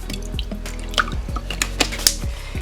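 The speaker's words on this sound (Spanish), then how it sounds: "yo voy a echar agua aquí en este vasito" Water is poured into a small glass, giving close, trickling drips and splashes with a few sharper plinks, alone with no talk.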